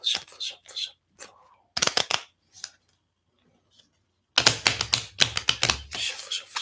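Tarot cards shuffled by hand in bursts of crisp, rapid flicking and riffling, close and fairly loud, with pauses between bursts and a dense flurry near the end.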